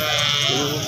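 A goat at a livestock market gives a single loud, wavering bleat close to the microphone, filling the whole short moment.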